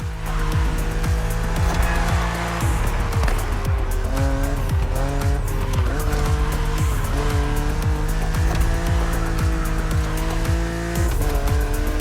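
A BMW Z4 E89 coupe cabriolet in the racing game The Crew Motorfest, its engine droning loud and steady with rising and falling pitch through gear shifts, tires squealing and skidding throughout, with no talking.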